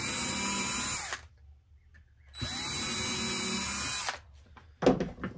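A power drill boring pilot holes in a Sprinter van rear door panel: two sustained loud whining runs separated by a pause, then a short burst, close by with no talk.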